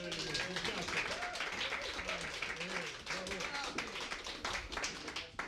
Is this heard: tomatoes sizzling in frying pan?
no